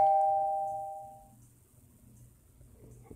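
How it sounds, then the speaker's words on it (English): A doorbell chimes once near the start, a clear ringing tone that fades over about a second into a quiet room with faint low background noise. "The bell, right?"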